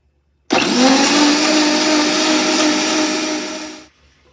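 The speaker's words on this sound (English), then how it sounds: "I'm going to add the ginger to the blender with a little water because we want to make sure we get this blended up quickly" Kitchen blender whirring at full power as it blends ginger with a little water, a loud close roar that starts suddenly, holds steady for about three seconds, then winds down, with no talk.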